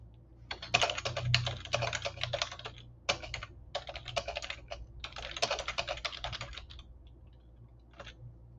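Typing on a computer keyboard, close and clear: rapid bursts of key clicks broken by short pauses, slowing to a few last taps near the end, with no speech.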